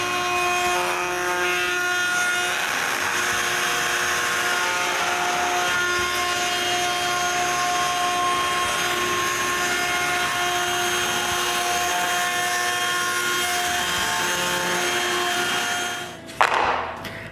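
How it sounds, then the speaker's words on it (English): A router rounds over the corners of wooden push block handles, a loud sustained high-pitched whine running steadily, then winding down with a brief clatter at the end. "Then I round over the corners, but not where the masonite hooks will be screwed."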